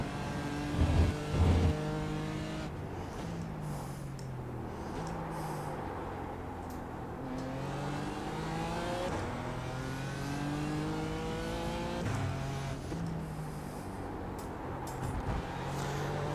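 A BMW M4 GT4 race car in iRacing, with a roughly 450-horsepower front-mounted engine and rear drive, revving hard through repeated gear shifts, its pitch climbing and dropping in steady cycles, loud and close, without speech.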